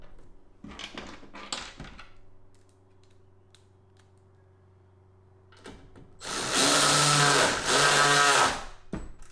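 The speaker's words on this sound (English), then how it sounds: "Now that the new tail light is in, we're going to reinstall the 2 screws." A power drill drives two screws to reinstall a new Meso Ultimate taillight, preceded by a few brief clicks and whirs, then one loud, sustained close whine lasting a few seconds.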